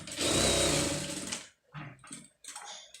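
An electric sewing machine stitches the lining of an embroidered blouse, starting with one sustained close whir of about a second and a half, then a few short, choppy bursts.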